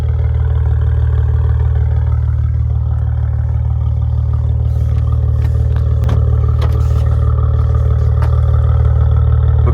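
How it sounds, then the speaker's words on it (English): A 2014 Maserati Ghibli S Q4 exhaust in sport mode idles with a steady deep, throbbing rumble, loud and close, with a few light clicks and clatter partway through. "Now I have the vehicle in sport mode so you can hear that exhaust."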